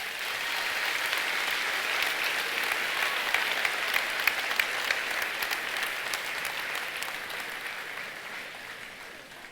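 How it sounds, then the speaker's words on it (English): A large crowd applauds steadily, dense clapping filling the whole stretch without pause, loud and sustained. "Give yourself a big round of applause."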